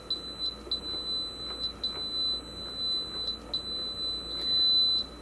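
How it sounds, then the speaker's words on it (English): An Instant Pot Pro pressure cooker beeps in a quiet kitchen, a series of short high-pitched electronic tones repeating in an uneven pattern over faint background hum. "It makes them all go into one long high-pitched beep"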